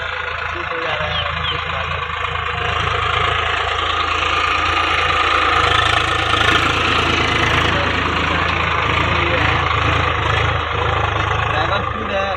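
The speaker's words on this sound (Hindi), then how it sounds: "पावर स्टीम ट्रैक्टर में मजा आ रहा है एकदम चलाने में।" A Swaraj 735 XT power-steering tractor engine runs steadily, a continuous mid-pitched diesel chug with a knocking rumble that stays close and loud throughout while a person talks over it.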